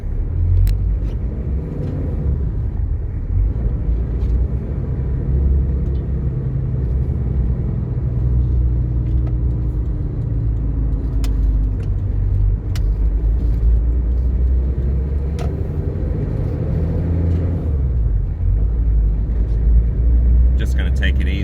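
Nissan GQ Patrol driving on a road, with a steady low engine rumble and road noise that runs on throughout, plus a few faint clicks and a voice speaking over it.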